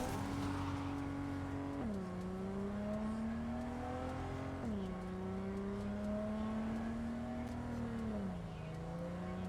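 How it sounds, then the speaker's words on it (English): A car in Cyberpunk 2077 hums along at a steady, loud engine pitch, with a couple of gear changes dropping and re-climbing the tone. "I'm not exactly good at handling cars."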